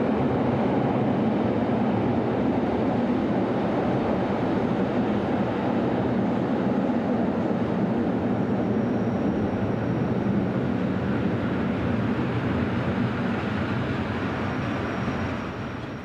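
Class GE66 locomotive no. 706 arrives hauling a passenger train from Cours to Saint Moritz. There is a loud, steady rumble of the engine and wheels close by, with no voices, which fades slightly at the end.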